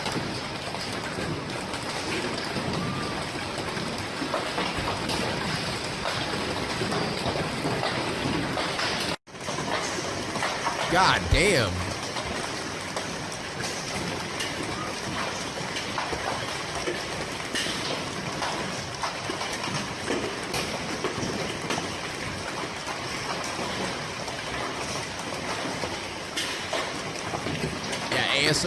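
A hailstorm pours down in a dense, continuous clatter of ice hitting surfaces, loud and unbroken apart from a brief cut. A voice curses partway through.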